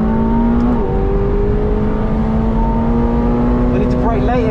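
A McLaren 720S engine drones loudly and steadily from the cockpit on the Donington GP circuit, its pitch easing down then climbing again as revs rise near the end, with someone talking over it.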